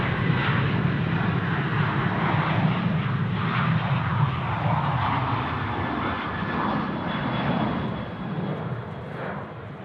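A Velocity Boeing 737-800 jet roars down runway 34 Right at Sydney Airport on takeoff, a loud sustained engine roar that holds steady then eases slightly as it pulls away, no voices.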